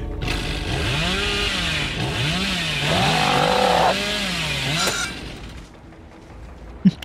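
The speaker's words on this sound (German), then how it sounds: "Ich komme mit der Kettensäge halt nicht klar" The Hillbilly killer's chainsaw in the video game Dead by Daylight revs loudly with wavering pitch, rising into a harsher whine, then cuts off with a crash, leaving quieter background and a final sharp knock.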